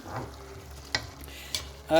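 A spoon stirs about two cups of rice into a pot of goulash stew, giving soft scraping and low sizzling with a couple of sharper clinks against the pot, close and steady.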